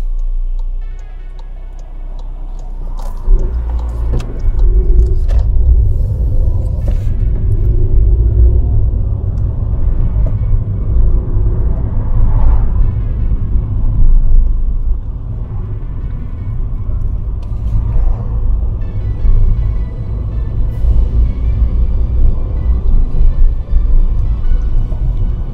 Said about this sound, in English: Driving over the old Runcorn Bridge